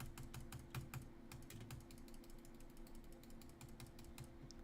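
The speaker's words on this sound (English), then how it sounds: "If I have the patience to keep clicking the spawn NPC group." Rapid, repeated mouse clicks while spawning NPCs in the ship-building game Floating Sandbox, a quiet, close, fairly regular ticking over a low hum of game sound.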